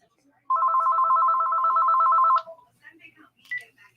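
Telephone ringback tone on an outgoing call: a steady, fairly loud burr sounding for about two seconds, then quiet clicks and faint voice-like sounds.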